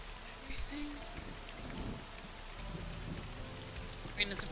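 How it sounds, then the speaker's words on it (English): Steady all-day rainfall hisses continuously outdoors, an even wash of drops with faint low rumbles and a few brighter splashes near the end. "Rain is depressing. It's been like this all day."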